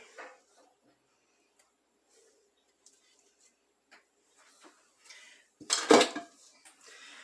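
Brownie batter being spread around a baking pan for a big batch, with sparse faint scrapes and taps building to a loud burst of metallic utensil-on-pan clatter near the end.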